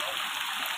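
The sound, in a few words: heavy rain falling on a hotel swimming pool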